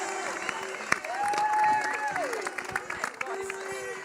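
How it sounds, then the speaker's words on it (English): A crowd at a Ladies Gaelic football homecoming applauds and cheers for a mother-and-daughter duo, with scattered claps, whoops and sustained vocal cheers rising over background chatter. "Big applause for Moira and Mary,"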